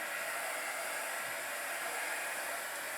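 A handheld craft dryer blows steadily over wet paint, a constant airy hiss with no change in pitch, fairly soft and continuous, with no talking.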